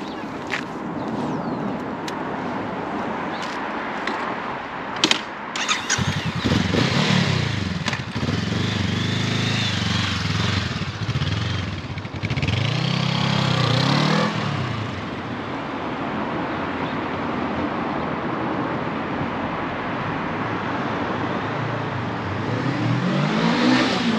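A 2023 Honda CL500 motorcycle is ridden on the road, its engine droning steadily up close with rises and falls as it revs and shifts, wind and road rumble blending in throughout.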